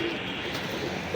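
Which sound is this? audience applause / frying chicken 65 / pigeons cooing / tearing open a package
pigeons cooing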